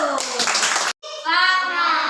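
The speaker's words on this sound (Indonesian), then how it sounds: "Tepuk tangan dulu." Schoolchildren in a primary classroom clap briefly, a short burst of hands under the chatter of young voices, then a pause before the children start chanting together.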